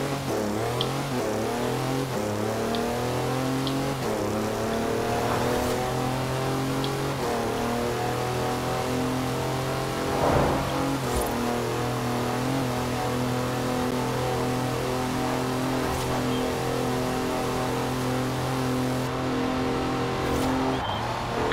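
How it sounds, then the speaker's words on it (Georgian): Mercedes car accelerating hard in the racing game Forza Horizon 4, its engine note climbing steadily through gear changes with a sustained, loud drone and no talking over it. "აი ასე ჩქარდება მეგობრებო ეს მანქანა."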